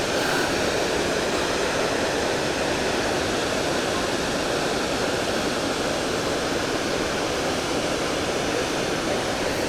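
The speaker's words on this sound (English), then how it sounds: "there's the Maid of the Mist out there. And there's a couple of the falls." Niagara Falls near the Maid of the Mist boat, a dense, steady roar of falling water that holds unbroken at full strength throughout, loud and enveloping with no talking.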